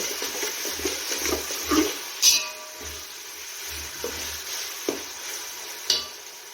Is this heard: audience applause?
no